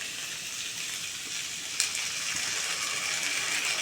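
Chilli chicken sizzles steadily in a hot pan as sauces are poured in, giving a constant frying hiss with a brief clink partway through and no talking.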